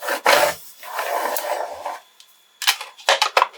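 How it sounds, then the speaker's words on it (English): A scraper rubbing matte black vinyl down onto transfer tape in short firm strokes, close and dry, with several quick passes and brief pauses between them. "taking my scraper to get this pressed down"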